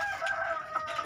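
Hens on a poultry farm clucking and calling in short, overlapping bursts, fairly close, with no talk.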